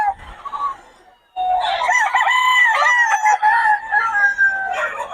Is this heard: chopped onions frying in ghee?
no